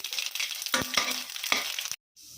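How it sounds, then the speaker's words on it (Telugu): Lentils frying in hot oil in a pan on the stove give a bright, continuous sizzle broken by a few scraping stirs, close and loud, then cut off abruptly near the end before a quieter tail. "ఆయిల్ వేడైన తర్వాత పప్పు దినుసులు వేసుకుని వేయించుకోవాలి"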